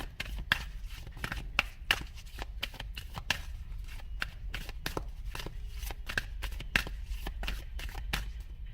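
Tarot cards are shuffled and laid out in a quick run of crisp, rapid riffling snaps and slaps, close up and continuous, with no talk over them.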